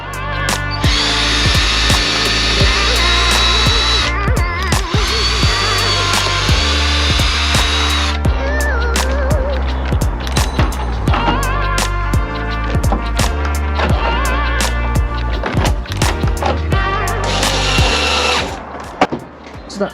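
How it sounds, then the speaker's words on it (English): A power drill whines in several loud bursts, speeding up and slowing down as it bores pilot holes in a campervan ceiling, with clatter between holes. "I'm going to drill some pilot holes to accept the 4 screws that hold the unit in place"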